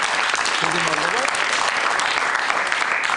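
A studio audience at a late-night talk show applauds with dense, continuous clapping that stays loud and even for the whole stretch.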